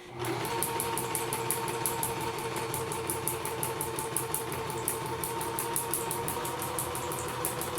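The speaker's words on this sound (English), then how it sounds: "Obviously, I've turned on the sewing machine." A sewing machine runs steadily at an even pace, its needle thumping in a fast, regular rhythm, close and fairly loud, with no talking.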